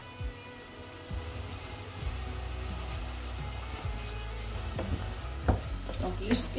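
Shrimp and garlic fry over full heat in a pan with a little water, giving a steady close sizzle and crackle, with a few sharper pops and utensil scrapes near the end.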